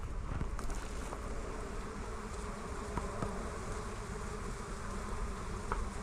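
Honeybees returning to their hive during an apiary inspection, a dense continuous buzzing swarm close by, steady and fairly quiet with light wind noise.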